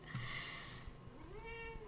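Indoor house cat giving two meows, a short one and then a longer rising cry, close and clear against quiet room tone with no talk.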